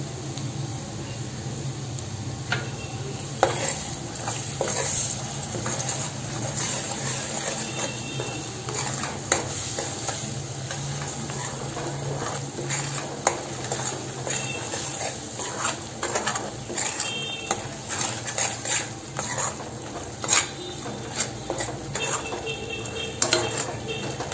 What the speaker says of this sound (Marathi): आता आपण यात वाटप पण टाकून घेऊया आणि तो छान असं परतून घेऊया।